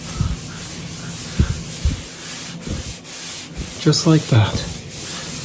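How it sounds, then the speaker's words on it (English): A sponge wiping wallpaper paste residue off a wall, with rhythmic close rubbing strokes and a brief spoken phrase near the end. "Wipe it all off and continue to dip your sponge"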